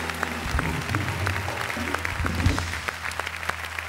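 A studio audience on the Beyaz Show, a Turkish TV talk show, breaks into applause on Republic Day, a continuous crowd clapping with a low hum beneath it.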